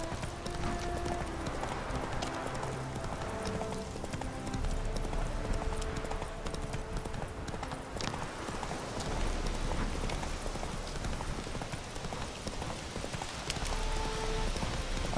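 Horse hooves clip-clop steadily as the mount travels through The Witcher 3: Wild Hunt, Hearts of Stone, a continuous rhythmic trot heard alone over ambient game sound and music.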